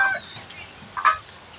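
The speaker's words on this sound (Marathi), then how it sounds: "पाखरं कशी ओरडतात." Birds call out as rain arrives, with a couple of short, close cluck-like squawks that rise briefly over a quiet background.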